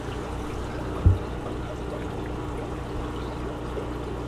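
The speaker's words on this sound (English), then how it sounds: "I'm just gonna stir up a little bit of sediment, that way I can clear it out of the water column" Water stirred in a Neocaridina shrimp aquarium to lift sediment, a soft continuous trickling and swishing with one brief low knock near the start.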